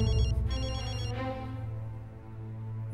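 A telephone rings with a bright, repeated electronic trill over a steady low background hum, loud and close; the ringing sounds in a Turkish drama scene, with no talk over it.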